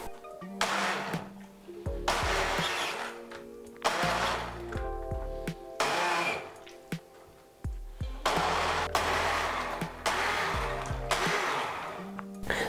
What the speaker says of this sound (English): with my immersion blender I'm gonna blend until smooth